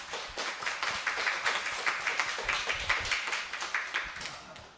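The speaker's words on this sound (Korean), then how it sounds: "박수 한번 할까요?" A church congregation gives a round of applause for a youth group's pilgrimage retreat, with many hands clapping in a steady, moderately loud burst that carries on for several seconds without any talking over it.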